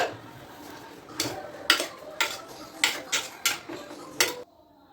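A spoon scraping and knocking against a pot as jackfruit is stirred with turmeric, salt and water, about eight distinct clinks in an irregular rhythm, close and fairly loud, ending abruptly.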